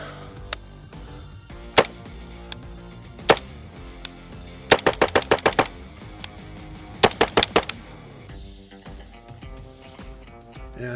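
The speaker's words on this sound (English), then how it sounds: "Since this is sending all the blast forward and none of it to the side, you can shoot. And it's obviously loud." Rifle fire through a forward-blast muzzle device: sharp, loud shots, first single spaced reports, then two rapid strings of five or six cracks each, with a lone shot between them.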